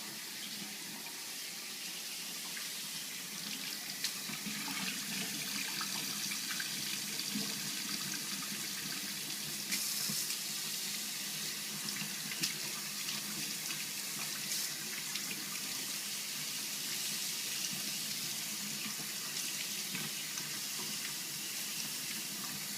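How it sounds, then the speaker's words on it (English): Hot tap water runs steadily into a sink, a continuous splashing hiss with faint shifts as a mustard-stained cloth is rinsed under the stream; no voices. "So I'm going to rinse it with hot water."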